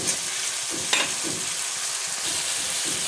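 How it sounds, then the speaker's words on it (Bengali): A catla fish head being stir-fried in a pan with coriander and cumin powder, chopped tomato and spices, giving a steady close sizzle with a few scraping stirs, and no voices. "মাছটাকে ভালো করে কষিয়ে নেব মশলার সাথে"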